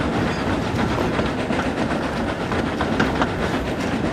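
A train rumbles along the rails with a dense, steady roar and faint clickety-clack, loud and close throughout. No distinct steam puffs stand out.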